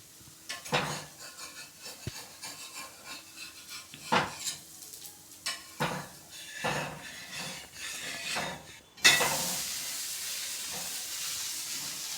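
A dosa frying in a pan for a home dinner, with a soft steady sizzle under scattered clinks and scrapes of a metal utensil against the pan, growing to a louder hissing sizzle as it is flipped near the end.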